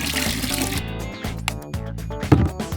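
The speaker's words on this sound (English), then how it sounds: "We made ourselves a fountain." A homemade pet water fountain runs steadily, water trickling and splashing continuously from start to finish over background music, with no speech.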